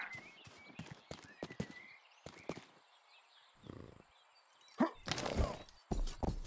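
Sharp, irregular hoof clops and thuds from a horse in the video game Rustler ring out in scattered bursts, with a louder scuffle of clattering steps near the end.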